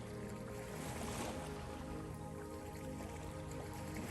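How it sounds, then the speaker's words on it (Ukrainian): Sea waves wash onto a shore in a steady, full-spectrum rush of surf and churning water, continuous and fairly close, with no voices. "Відчуйте, як хвилі торкаються ваших ступень, як вони обливають ваші ноги все вище і вище торкаючись колін."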